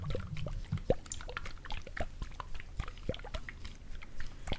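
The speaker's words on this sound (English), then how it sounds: "you'll hear like the shaking of the water" Water sloshes inside a glittery water globe as it is shaken, giving soft, close liquid swishes and small clicks of glass and plastic in a quiet room, with no talking.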